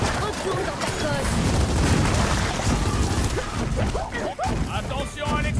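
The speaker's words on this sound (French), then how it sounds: "Attention à l'explosion!" Explosions and gunfire burst through a chaotic firefight in the video game Gears of War 4, loud and dense, with sharp crashes, while excited voices shout over the action.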